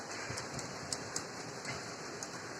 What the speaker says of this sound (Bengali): দেখো পুরো পরিমাণে বৃষ্টি হচ্ছে